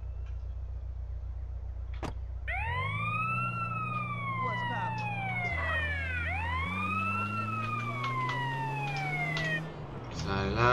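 A police siren from the video game GTA San Andreas wails in loud repeating rising and falling sweeps over a steady engine drone, ending with a brief burst of louder noise.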